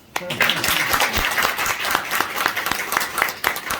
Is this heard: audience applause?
yes